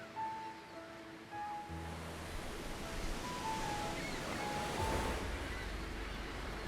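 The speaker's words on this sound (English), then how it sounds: "Waves rise with real force here" Pacific Ocean surf at Zihuatanejo Beach, Mexico, washing in as a soft, broad rushing roar that swells slightly in the second half, with faint thin tones floating above it.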